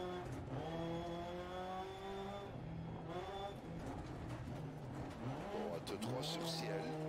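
Rally car engine in the Dirt Rally 2.0 game revs and shifts through gears, pitch rising and dropping as it slides and skids on a stage, with someone talking over it.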